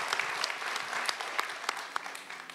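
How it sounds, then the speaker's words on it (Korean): A crowd at a book concert for former minister Cho Kuk in Jeonju applauds steadily, a continuous patter of many clapping hands with a few sharper individual claps standing out, heard somewhat distant and soft. "박수 한번 부탁드립니다."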